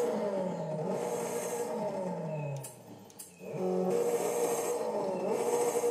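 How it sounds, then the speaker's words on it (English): A Forza Horizon 5 car with a small four-cylinder engine in the Honda Civic mould revs hard with a buzzy, rising drone. It cuts off briefly mid-way with a pop, then surges back up loud and sustained. "That kind of sounds like a Honda Civic 4-cylinder."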